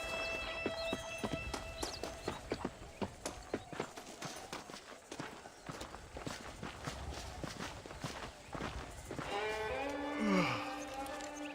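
A horse's hooves clip-clop steadily in the Red Dead Redemption western game, a run of close, even footfalls on hard ground with a brief horse-like whinny near the end.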